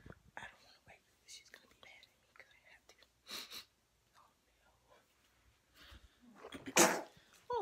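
A young child's sneeze bursts out loudly near the end, after soft whispery sounds and quiet murmuring at home in the morning.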